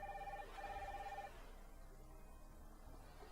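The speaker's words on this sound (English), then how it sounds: "Oh, uh-oh, we're getting a phone call." A telephone rings in the Nancy Drew game Sea of Darkness, with two clear electronic ring pulses in quick succession, followed by a quieter, hollow room ambience once the ringing stops.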